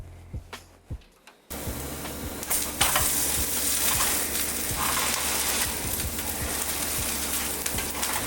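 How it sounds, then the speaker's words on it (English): Grilled cheese sandwich cooking in a pan, flipped and left to cook: a few soft clunks, then a loud, steady sizzle and crackle of frying that fills the rest, close up with no talk. "Flip the whole sandwich. Let it cook evenly."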